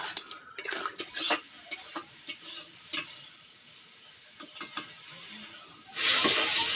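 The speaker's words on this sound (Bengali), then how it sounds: "এবার মশলার সঙ্গে কাঁকড়াটা বেশ কিছুক্ষণ কষে নেব।" Fried crabs being stirred into masala in a pan: irregular scraping and clinking of a utensil with soft hiss, close, in bursts with pauses, ending in a louder steady hiss.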